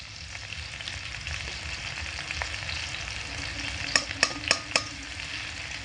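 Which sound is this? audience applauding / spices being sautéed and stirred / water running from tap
spices being sautéed and stirred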